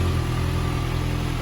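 A Kawasaki ZX6R race bike engine runs steadily after a cold start, a loud, dense, continuous exhaust drone at close range with no talk.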